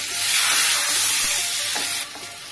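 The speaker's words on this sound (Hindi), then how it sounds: "बटर मेल्ट हो जाएगा थोड़ा सा, तो आधा चम्मच इसमें जीरा ऐड कर देंगे, साथ ही ये जो तेज पत्ता हमने रखा था वो ऐड करेंगे।" Cumin seeds and a bay leaf sizzling in melted butter in a pan, a loud continuous hissing fry heard close up, easing slightly near the end.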